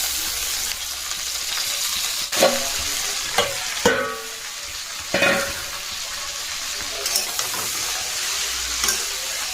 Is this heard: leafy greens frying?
yes